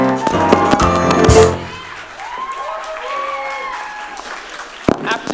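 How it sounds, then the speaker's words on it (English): A burst of clapping from a theatre audience at a stage performance of The Mystery of Edwin Drood fills the first second and a half, then fades as speaking voices take over. "a warm round of applause for Nick Cricker and his son."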